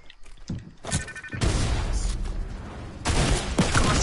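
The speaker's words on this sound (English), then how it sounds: "This dude was just shooting at me." Video game gunfire in a duos battle royale match, with a shotgun mentioned: loud bursts of rapid shots and booming impacts, with a brief lull midway before dense firing resumes, close and continuous throughout.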